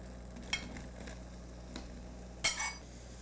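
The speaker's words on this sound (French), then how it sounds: "Quand le beurre et l'huile sont bien chauds, on ajoute les champignons." Mushrooms hitting hot butter and oil in a pan, a soft steady sizzle with a few faint clinks and one sharper scrape or clatter near the end.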